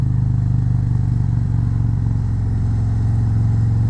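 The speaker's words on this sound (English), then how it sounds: "I love the way this exhaust warms up as you ride it." Loud, steady low rumble of a motorcycle engine and exhaust while riding, close up, holding an even throttle.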